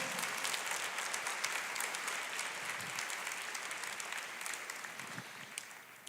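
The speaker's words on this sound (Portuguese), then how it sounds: "Você pode aplaudir o Senhor?" A church congregation applauds during a sermon, producing a steady wash of many hands clapping that holds evenly, moderately distant, and tapers slightly at the end.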